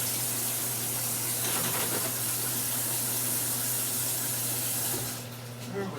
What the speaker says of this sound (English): My mama's gonna wash her hands.